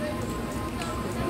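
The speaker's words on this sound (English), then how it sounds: "Here comes the rain." Soft, steady patter of rain on a surface, a brief wash of dense drops with a faint murmur of voices beneath.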